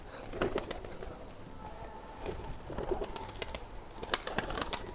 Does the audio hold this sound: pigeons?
yes